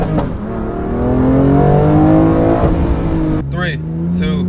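A BMW M2 launches hard with traction control off. The engine revs climb in loud rising harmonic sweeps, then a sharp gear-change break and short hissy bursts, with a voice over the run.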